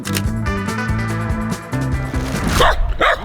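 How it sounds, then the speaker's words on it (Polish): Several dogs bark in quick bursts nearby on a walking trip across Poland, loud repeated woofs and yips overlapping, with harsher higher yelps toward the end. "Wściekłe psy, które mają poziom"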